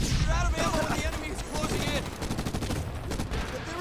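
Rapid bursts of gunfire from the video game Medal of Honor, a dense, loud continuous barrage of shots with a player's voice talking over parts of it.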